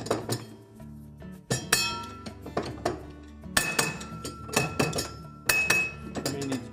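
A nut being removed from the drive pulley of a GE washer, heard as a close run of sharp metallic clinks, taps and clunks in irregular bursts.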